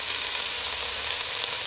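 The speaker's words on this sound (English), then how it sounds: "Once it is hot, add the onion and the garlic." Chopped onion and garlic sizzle steadily in a tablespoon of hot oil, a bright, even hiss with no voices over it.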